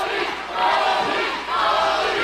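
Steel cage wrestling crowd roaring and chanting in a sustained, loud wall of noise, swelling midway as the match builds.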